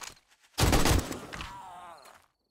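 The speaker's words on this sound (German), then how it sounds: "So, drei Schuss, weg." Gunfire in the survival game 7 Days to Die: a burst of a few close, loud shots packed together, followed by a decaying rumbling tail and scattered game noises.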